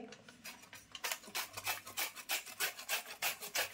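Peeled pumpkin being grated on a modern kitchen grater, a steady run of about a dozen close, rhythmic rasping strokes that grow louder and more regular, with no talking.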